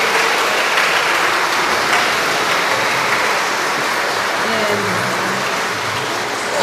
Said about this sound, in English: May I ask for a last round of applause? Please stand up and applaud.